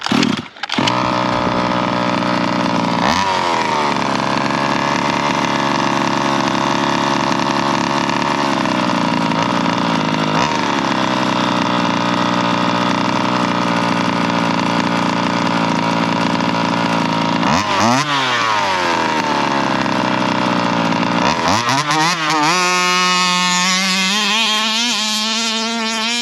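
Gas engine of a Baja 5B RC car revving hard at open throttle, a loud, raspy two-stroke whine that holds steady, dips and climbs again, alone with no talk.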